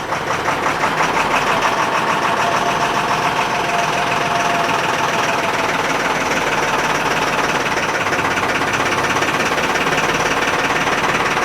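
An LMTV military truck's diesel engine idles loud and close with a steady rhythmic chug, a slight miss giving it a faintly uneven, knocking pulse throughout.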